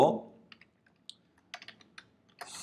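Scattered keystrokes on a computer keyboard, a handful of light separate clicks and short bursts of typing, close and faint, with a brief breath or voice onset at the very start.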